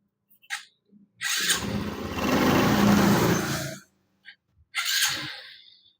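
A Honda Supra 125 motorcycle engine with valves set too tight runs roughly at idle, revving in uneven bursts with gaps and sputters before catching again, close and loud.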